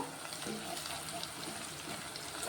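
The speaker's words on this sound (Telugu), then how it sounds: "అల్లం వెల్లుల్లి పేస్ట్ కూడా కొంచెం ఫ్రై" Ginger garlic paste fries in a pan for a Telangana-style chicken gravy curry, giving a faint, even sizzle that stays soft and continuous with no talk.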